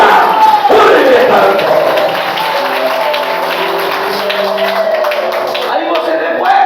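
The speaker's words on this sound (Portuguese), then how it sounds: "Bate palmas agora." Church congregation claps hands together at a worship service, a dense run of clapping and voices that continues under a speaker's sustained tones and music throughout.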